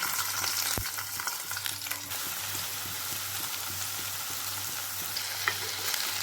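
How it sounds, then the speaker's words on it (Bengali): Prawns hit hot mustard oil in a pan and set off a loud, steady, close sizzle that continues throughout, with a sharp initial crackle and faint scraping movements. "তেলটা গরম হয়ে গিয়েছে, তাই আমি এখন এর মধ্যে চিংড়ি মাছগুলোকে দিয়ে দিচ্ছি"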